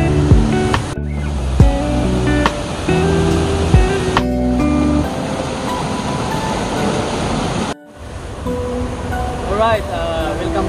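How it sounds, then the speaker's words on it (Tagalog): Tinago Falls, a waterfall in Caibiran, Biliran, gives a loud, steady rushing roar that fills the scene, broken by abrupt cuts, with people talking over it. "Welcome to Tinago Falls ng Caibiran"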